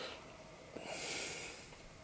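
A hedgehog sniffs indoors in a house, giving soft, quick snorting breaths that swell briefly in the middle, faint and close.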